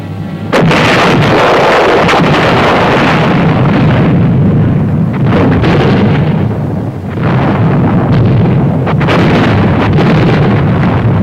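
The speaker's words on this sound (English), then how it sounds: "The barrage to soften up the enemy began. Artillery, mortars, and other supporting weapons." An artillery and mortar barrage from WWII-era supporting weapons, a dense, continuous roar of overlapping blasts and booms that fills the whole stretch loudly and close, with no speech.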